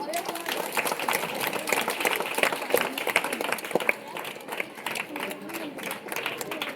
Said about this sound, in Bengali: তোমরা হাততালি দিয়ে